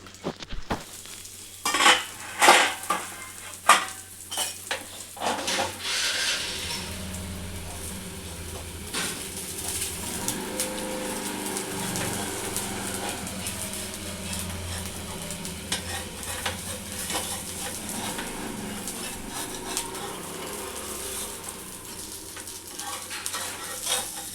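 Rice flour dosa frying in oil on a pan for a Telangana-style recipe, with a steady hiss and sizzle throughout after a few early clatters and scraping sounds of utensils.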